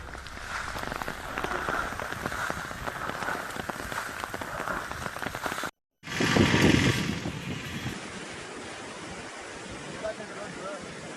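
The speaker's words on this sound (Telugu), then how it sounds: "గుంటూరులో భారీ వర్షం కురుస్తోంది." Heavy rain pours steadily over Guntur, a dense continuous hiss that briefly cuts out, then returns with a louder low rumble of water before settling into a softer steady downpour.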